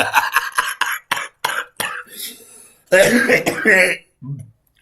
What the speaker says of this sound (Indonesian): Aduh, sampai batuk gue.